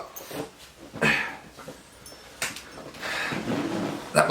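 A small French bulldog snuffles and snorts close by, with short bursts of breathy sniffing and scuffling scattered across a few seconds.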